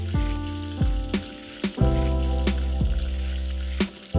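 Bell peppers stir-fried in a wok with chili oil, chili bean paste, dried chilies, ginger and garlic: a dense, steady sizzle broken by several sharp clanks of the spatula scraping the wok, no talking.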